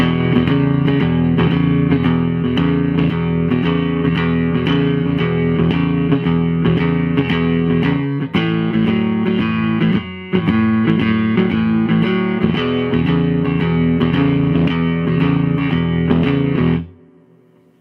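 Heavy, distorted palm-muted guitar strumming across all strings in a steady driving blues rhythm, chords cut short and choppy, played alone until it stops abruptly near the end.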